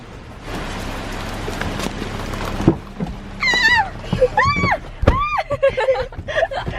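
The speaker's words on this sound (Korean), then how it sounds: "지금 비가 엄청 엄청 많이 와가지고" Heavy rain pours down in a dense, steady hiss for a couple of seconds, then eases as people start talking over the lingering patter.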